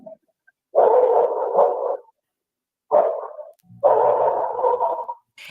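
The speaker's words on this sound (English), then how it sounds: "a faint whimper followed by a loud thud" Dog-like vocal bursts, a sustained whine-like cry and then two more cries, loud and close, with pauses of silence between them, carried on surveillance camera audio.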